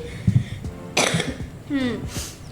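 A few close, harsh coughs and throat-clearing sounds, with a brief bit of speech between them.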